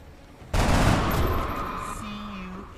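An SMG opens up suddenly in the turn-based game XCOM Long War with a loud burst of rapid, close gunfire that then fades into a ringing tail. A brief electronic tone follows near the end.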